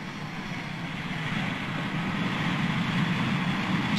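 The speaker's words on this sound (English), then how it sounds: "7021 is clear for takeoff" A Speedbird airliner rolls down the runway for takeoff, a steady, broad jet roar that builds gradually in loudness and stays constant throughout with no talk.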